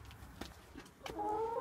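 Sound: chickens clucking

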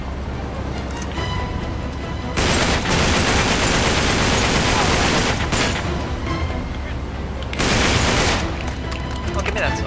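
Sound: gunfire in the video game Uncharted 3: Drake's Deception

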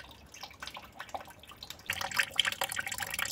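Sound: water running while extracting liquid fertilizer

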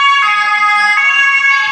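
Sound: ambulance siren passing in a street in Trier

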